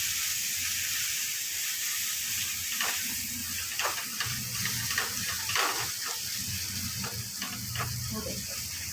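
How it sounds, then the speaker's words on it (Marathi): Tomato fries in a pan while ingredients for a cabbage dish go in, a soft steady sizzle and hiss with scattered stirring clinks and a low hum underneath. "आपला टोमॅटो खाली मस्त फ्राय होतो. फ्राय करा."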